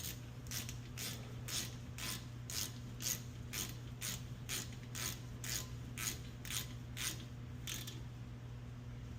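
A hand ratchet tightens brake caliper bolts during a brake job, giving a steady run of about fifteen quick, evenly spaced clicks over a constant low hum.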